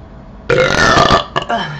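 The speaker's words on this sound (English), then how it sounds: "Mellow yellow gives good burps." A loud, close burp after drinking Mellow Yellow soda: one long rasping belch, then a shorter second burst after a brief pause.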